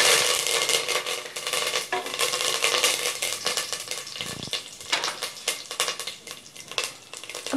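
Fennel seeds and curry leaves sauté in hot oil, giving a bright, steady sizzle with scattered crackling pops, moderately close and unaccompanied by talk.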